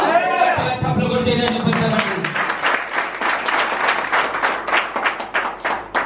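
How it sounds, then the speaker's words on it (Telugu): Church congregation at a Telugu Friday worship service clapping together, rhythmic claps building into fast, loud applause after a stretch of singing or speech at the start. "చప్పట్లు కొడితే"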